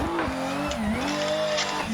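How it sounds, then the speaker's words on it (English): A Toyota Supra engine revs hard on a track, its loud, continuous tone rising and falling through gear changes over about two seconds, with tire squeal blended in; any blow-off valve hiss is not clearly separable. "Just trying to listen to that blow off valve sound."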